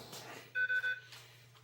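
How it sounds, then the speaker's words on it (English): A radio remote for a 3D-printed six-wheeled Unimog model gives three quick electronic beeps, close and fairly loud over a low steady hum. "You can hear my remote going off over here."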